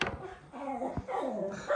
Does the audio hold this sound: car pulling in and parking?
no